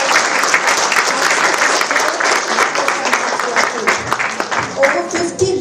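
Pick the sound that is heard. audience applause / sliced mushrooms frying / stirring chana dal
audience applause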